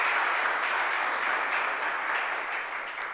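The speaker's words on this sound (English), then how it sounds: "Let's give Michael a round of applause" An audience applauding a guest speaker, a steady, dense wash of clapping that holds evenly and tapers slightly at the end, with no talk over it.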